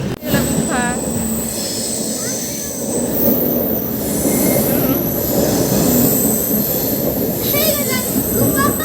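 A train rumbles along steadily for several seconds, with rolling wheel noise, occasional high metallic wheel squeals and faint clatter, heard from on board near Rayagada with a little background chatter.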